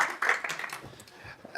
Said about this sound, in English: It almost felt like a round of applause would be appropriate then.